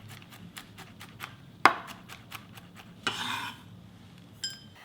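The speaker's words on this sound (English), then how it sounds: "I need to chop up some pine nuts" A knife chops pine nuts on a board in a steady run of crisp, close taps, broken by a sharper knock and a short scraping sweep across the surface.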